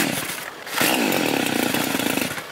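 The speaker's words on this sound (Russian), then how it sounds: "нормальная пила? Вообще огонь." A Stihl chainsaw runs near an off-road vehicle, its engine revving up after a brief idle into a loud, steady buzzing whine that holds to the end.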